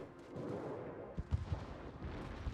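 Naval artillery salvos boom in a World of Warships match, several heavy low thumps landing one after another over a steady rumble of battle noise.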